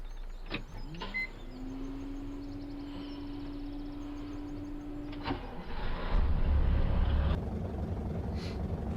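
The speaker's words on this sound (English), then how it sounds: "Wonderful sounding engine startup on this one." A Mack truck engine in Farming Simulator 17 starts with a whirring starter whine that holds steady for several seconds. The engine then catches into a louder, rougher idle, with no talking over it.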